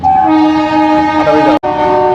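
A passing train's horn sounds in a long, steady, loud blast, harmonic and close, cutting off briefly before sounding again.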